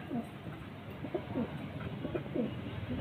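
Pigeons kept in a home loft coo in soft, repeated low burbles spaced across the moment, fairly quiet and close, over a faint room murmur.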